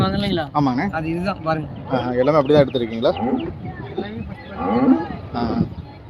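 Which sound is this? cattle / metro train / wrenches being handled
cattle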